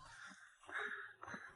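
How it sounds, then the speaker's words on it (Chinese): A crow-like bird gives a couple of hoarse, drawn-out caws in a quiet mountain forest, faint and somewhat distant with no other sounds around. "没有任何的声音，只能听到那些鸟叫一下"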